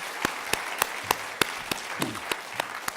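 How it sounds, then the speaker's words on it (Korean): A church congregation in Korea claps for budget committee members in a slow, even unison beat: about ten sharp, separate claps spaced evenly over three seconds, with a quiet room between them. "우리 박수로 격려하도록 하겠습니다"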